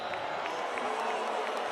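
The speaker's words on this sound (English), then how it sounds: "Paulson Stadium getting into full voice ahead of a 3rd down" A football stadium crowd at Paulson Stadium roars steadily ahead of a third down, a dense continuous wash of cheering with a few whistles poking through.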